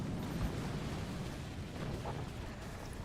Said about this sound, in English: Standard cannon comes online and defends itself from the howitzer just in time.